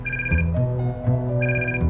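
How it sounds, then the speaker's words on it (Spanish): A telephone rings with a repeated electronic two-tone trill, loud and steady, over a low musical drone in a Spanish-language detective drama. "No cojas ese maldito teléfono."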